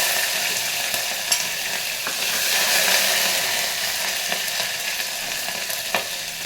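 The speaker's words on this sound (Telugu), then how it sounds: "గింజలు వేడయ్యాక కరివేపాకు, తర్వాత పచ్చిమిర్చి, అల్లం పేస్ట్ రెండు కలిపి కరివేస్తున్నాను" Curry leaves, green chili and ginger paste frying in hot oil with seeds for masoor dal, giving a steady close sizzle with a few sharp crackles and pops throughout.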